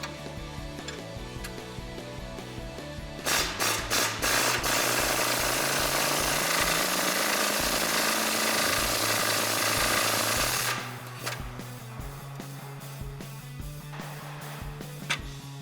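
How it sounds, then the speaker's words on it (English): A ratcheting tool loosens the lower shock mount bolts on a Jeep Wrangler JK, heard as a long, loud, continuous buzzing whirr with rapid clicks before and after, close up. "Now with the 18mm socket and wrench, we're going to go ahead and get our lower mount off."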